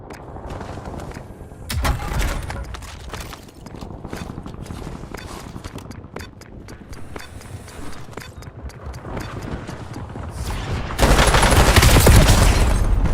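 Rapid gunfire in the shooter game Warzone, Resurgence solos mode, bursts of close shots over a busy clatter of footsteps and movement, with a louder sustained barrage near the end.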